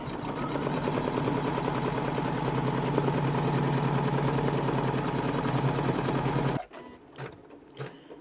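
An embroidery machine stitches around the edge of a curved zip pouch, a steady close mechanical whirr with rapid needle chatter that runs continuously, then cuts off abruptly, leaving a few soft handling knocks.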